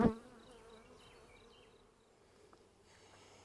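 Honeybees buzz faintly around a hive in spring, a thin steady insect drone with a sharp knock at the start and quiet surroundings.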